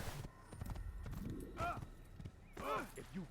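Clip-clop of horse hooves in the video game Assassin's Creed, steady trotting rhythm joined by a horse's whinny, with a voice talking over part of it.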